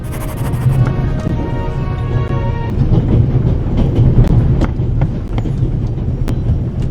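Train noise aboard a train in the game The Raven Remastered: a continuous loud rumbling rattle with rhythmic clicking of wheels and sharp metallic ticks, heard alone without talk.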